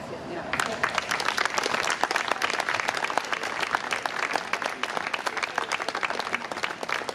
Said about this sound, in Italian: io rifarei un applauso a Gian Bruschini